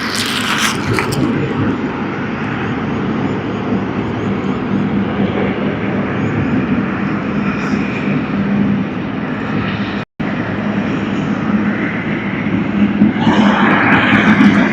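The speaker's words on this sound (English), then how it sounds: "Emirates A380, you see there it is having touchdown" An Emirates Airbus A380 landing at Sydney Airport, heard as a continuous loud roar of jet engines and rushing air close by, with a brief drop partway through and the noise swelling again toward the end.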